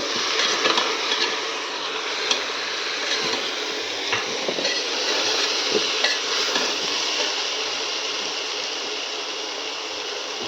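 Khichdi in a pot is stirred after salt goes in, giving a steady close hiss with a few faint clinks and scrapes scattered through.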